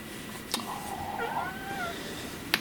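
A pet cat named as a silly girl meows with a rising, wavering call in the middle of a quiet room, with two sharp clicks and no talking.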